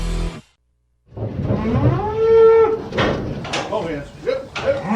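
Cattle moo loudly and close by in a long drawn-out call, followed by more lowing and some clattering, as animals are loaded onto trailers for hauling on a ranch.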